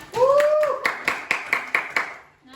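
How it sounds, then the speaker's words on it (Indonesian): A classroom full of students claps in unison after a brief voice, giving about six sharp, rhythmic group claps close by that fade out, then a short vocal sound at the end. "Tepuk tangan untuk Upa"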